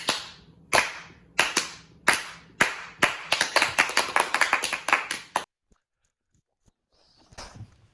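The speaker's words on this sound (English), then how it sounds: "Thanks, guys, for the slow clap." A group slow clap at a church youth gathering: loud sharp claps spaced apart that steadily speed up into a rapid flurry, then stop abruptly, followed by near silence and one faint late clap.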